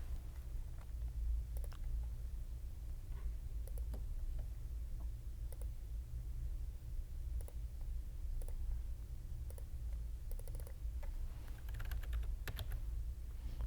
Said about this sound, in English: So in this coordinates box, we will type in world